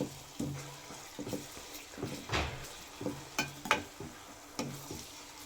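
Ingredients cook in oil in a pan while a homemade skin oil is prepared. Repeated stirring taps and scrapes sit over a soft, low sizzle, close and fairly quiet.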